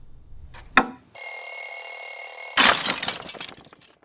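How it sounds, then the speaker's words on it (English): A mechanical alarm clock rings in a loud, steady metallic trill after a sharp knock, then is smashed apart with a bright crash of breaking parts that quickly fades. "An alarm clock was hit, smashing it into a small pile of gears and springs"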